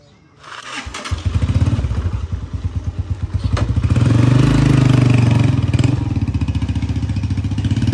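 A motorcycle engine starts and runs close by, settling into a steady, loud rhythmic putter that swells slightly before holding level to the end.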